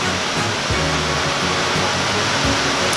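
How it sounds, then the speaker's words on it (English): Heavy rain pours down outside during a thunderstorm in Uganda, a steady dense broadband roar like a waterfall that fills the whole stretch, with occasional low rumbling swells beneath it and no voices. "The rain is just like pouring down, thunder."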